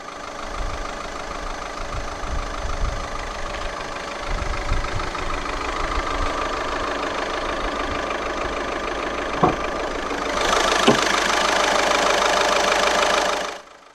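2014 Audi A1 Sportback 1.6 litre turbo diesel inline four with common rail injection idling steadily, a close diesel clatter with a couple of clicks and a louder hissing stretch near the end.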